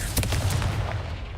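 A Confringo fire spell blasts in the Hogwarts Legacy video game, a brief loud burst with an explosive crackle that fills the whole moment.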